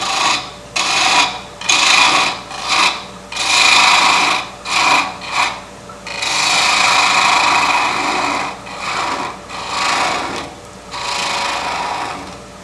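Wood being turned on a lathe with a quarter-inch spindle gouge for small peg-people toys, a close, loud rasping cut repeated in short strokes with gaps, then longer continuous passes.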